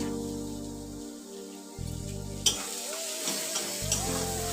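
Spice paste with Kashmiri chilli powder and fried ground nuts being stirred and fried in a pan for a potato, capsicum and paneer curry, a steady close sizzle with scraping strokes, alone without talk.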